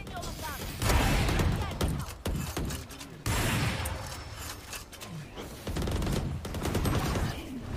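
Rapid gunfire bursts in the tactical shooter Valorant, loud and close, coming in dense volleys with short gaps between them and a busy layer of game sound underneath.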